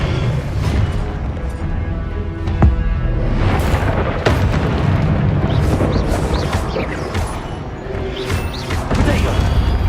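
Confringo fire spell explosions in a Wizarding World video game on PS5, a dense run of loud booming blasts and crashing impacts layered over a constant roar, with several sharp hits standing out.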